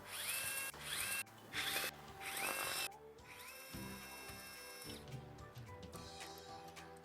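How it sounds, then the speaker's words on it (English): A small electric screwdriver backing four screws out of a drone frame, in several bursts of high whirring spin with short pauses, close and fairly quiet, with no talking. "Now I have to get out these 4 screws that holds all the stack together to the frame"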